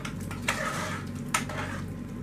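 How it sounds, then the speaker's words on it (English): A spoon scraping and clinking against a pot while boiled potatoes with a little milk are stirred before mashing, two soft clanks over a low steady background hum. "Let's give them a stir."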